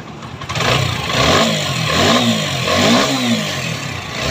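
A TVS Apache 4V motorcycle engine, noted as feeling heavy after a faulty repair, revs up and down close by in loud, rising and falling waves over a rough idle, with no talking.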